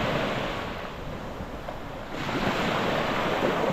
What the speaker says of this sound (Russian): И море успокоилось.